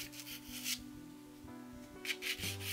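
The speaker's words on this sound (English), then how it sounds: "I'm just taking my putty rubber and getting that in there like so." A putty rubber rubs against pastel paper in soft, quiet scratchy strokes, with brief bursts of brushing friction close up against faint background hum.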